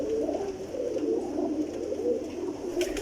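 Teddy Gilden pigeons in a Jhelum loft coo steadily at close range, a soft, continuous layer of overlapping low murmurs with no talking.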